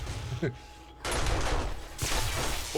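Gunfire in a video game, a loud, dense burst of rapid shots starting after a quieter moment and continuing with a brief break, close and harsh, with a voice faintly underneath.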